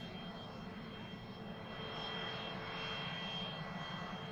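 Aircraft engines roar steadily at Manchester Airport, a continuous, moderately distant drone that swells slightly midway, with no voices.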